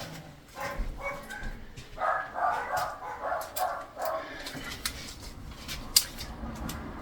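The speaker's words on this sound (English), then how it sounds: "there's somebody at the door because my dogs are barking" Dogs barking indoors a little way off, a run of sharp repeated barks that fade into a few scattered yelps.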